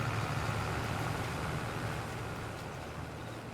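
A tractor engine idles steadily in Farming Simulator 22, a constant low drone with a fixed hum that holds even and slowly fades a touch, with no talk over it.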